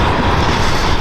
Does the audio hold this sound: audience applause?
no